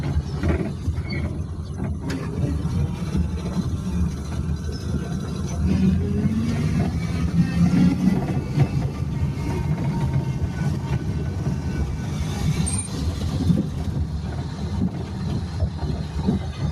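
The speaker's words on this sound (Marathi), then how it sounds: "रिव्हर्स टाकूया गाडी आपली मस्त." A village van's engine drones steadily and loudly while reversing, a continuous low rumble with mechanical rattling and no clear voices.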